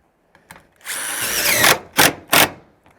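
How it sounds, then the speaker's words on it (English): Power drill driving 2-inch screws into the ribs of a metal roof on a 30x40 building, one sustained whine of about a second followed by two short bursts, loud and close. "Here we're using 2-inch screws, and we're gonna screw on top of each rib"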